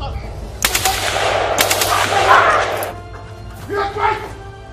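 Gunfire sound effects in a movie, loud rapid bursts resembling machine-gun fire in two clusters with a crash-like impact between them, mixed with shouting voices and a steady low hum.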